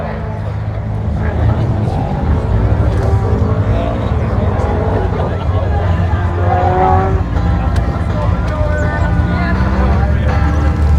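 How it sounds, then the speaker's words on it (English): Green Westfield Clubman sprint car, number 200, driven past at a sprint meeting, its engine a loud, rising roar that sweeps by close up, with a commentator talking over it throughout. "Green Westfield Clubman coming with Charlie O'Brien"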